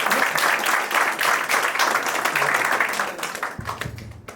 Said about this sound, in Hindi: और एक बार कुशल के लिए जोरदार तालियां हो जाए।